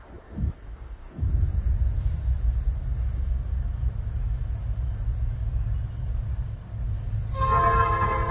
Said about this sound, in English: Was the manifest Kansas City to Venus, Illinois, going through eastbound on the Mexico sub in Independence,